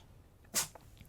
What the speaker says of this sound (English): The cat is sneezing.